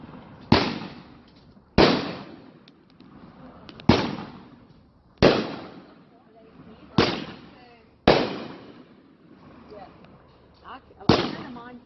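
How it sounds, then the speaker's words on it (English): An evening fireworks show sends out a steady series of loud booming bursts, about one every two seconds, each ringing out and decaying, with faint voices and crowd noise between the blasts. "We have a fireworks show following."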